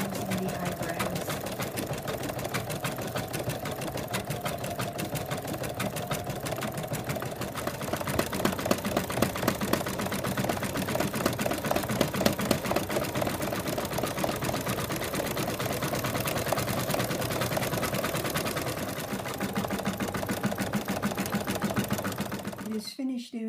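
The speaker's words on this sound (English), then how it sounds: "The machine is now going to stitch out the placement of the muzzle" An embroidery machine stitches a teddy bear design with a fast, steady mechanical chatter that runs close and unbroken, ending in a brief clatter.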